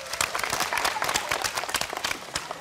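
A game show studio audience gives a short burst of fairly soft, steady applause, with scattered individual claps audible in the crowd.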